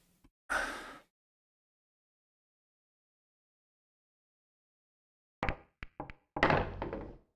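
Pool balls strike in the FlyOrDie 8Ball online game: one soft thud, a pause, then a close cluster of sharp clicks and knocks near the end, with no talking.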